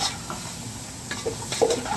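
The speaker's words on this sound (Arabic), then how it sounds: "احمس كل شيء مع بعض." Carrots, potatoes and spices being stir-fried together in a pot for Kuwaiti chicken stew, a soft sizzle under scraping and clinking of a utensil against the pot, close by.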